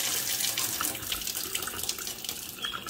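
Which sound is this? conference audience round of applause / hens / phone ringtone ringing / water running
water running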